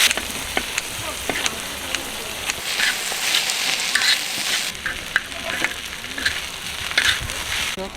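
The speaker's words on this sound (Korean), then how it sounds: "밥을 좀 볶아 보자고요" Kimchi fried rice sizzles and crackles in a pan at a forest campsite, a steady frying hiss with scattered scraping clicks from stirring, loud and close, with no talk.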